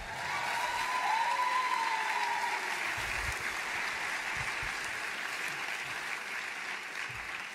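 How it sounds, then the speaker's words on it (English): Graduation crowd at a university commencement ceremony clapping in a large space, a broad, sustained roar of applause at moderate distance, with a faint tonal whistle briefly audible over it. "You may applaud."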